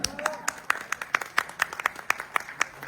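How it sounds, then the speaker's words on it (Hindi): An audience claps at a stage event, a sparse, evenly spaced rhythm of sharp, distinct hand claps, a few hands beating in near unison rather than a dense roar. "जोरदार तालियों के साथ"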